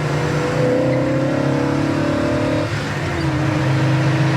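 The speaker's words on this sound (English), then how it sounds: "I just want to show you how it goes to the gears. Just nice and smooth." A 1965 Pontiac GTO engine pulls loud and steady from inside the car, its tone climbing until a brief dip near the middle marks a gear change, then settling into a lower cruising drone.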